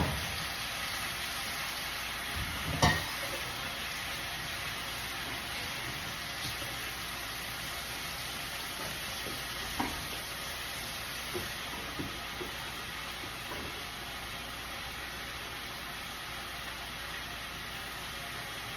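Beef pieces for sinigang hit a hot pot, giving a steady, soft, broadband sizzling hiss throughout, broken by a few faint clicks and pops, with no talking.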